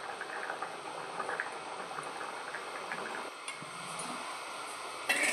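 Lentils (biuli dal) boil inside a pressure cooker, giving a faint, steady bubbling hiss that runs continuously and ends with a brief sharper burst.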